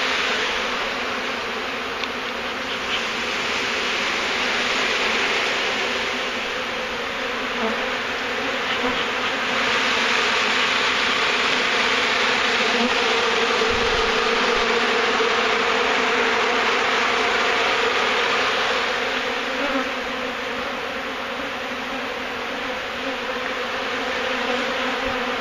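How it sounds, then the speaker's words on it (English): A dense swarm of honey bees buzzes loudly and continuously around a beekeeper during a hive removal in Wellington, Florida, a thick, close hum that swells and fades slightly without pause and with no talking. "Yep, that's how many hives are around me right now, or how many bees. This is a lot of bees."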